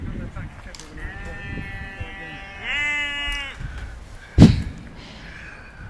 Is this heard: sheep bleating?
yes